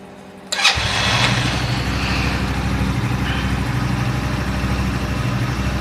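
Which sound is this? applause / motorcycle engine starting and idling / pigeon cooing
motorcycle engine starting and idling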